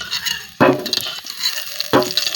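Fried potatoes being lifted out of hot frying oil: a steady crackling sizzle broken by two sharp utensil scrapes and clinks against the pan.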